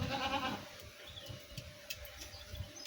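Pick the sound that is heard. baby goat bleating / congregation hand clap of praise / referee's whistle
baby goat bleating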